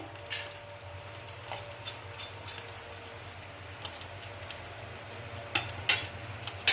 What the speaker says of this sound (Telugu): తాలింపు గింజలు వేస్తున్నానండి